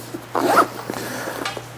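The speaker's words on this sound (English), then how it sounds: "one of the things you'll notice is that this zipper is very concealed" A concealed zipper on a DJI Mini 4 Pro drone carrying case is pulled open in one short, close rasping run, with faint handling noise before and after.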